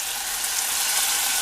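Vegetables, including green peas and finely chopped capsicum, sizzle and fry in a pan for masala pasta, a steady close hissing crackle with no talk over it.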